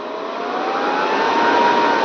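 A Luch 2 film projector from the 1960s runs steadily, its motor giving a continuous, even whir that rises slightly in pitch and loudness as it speeds up, with no talking.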